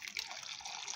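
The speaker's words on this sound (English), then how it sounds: "The first thing I need is hot water, and pour my hot water" Hot water is poured into a cup, giving a short, soft, continuous splashing trickle close by, with no one talking.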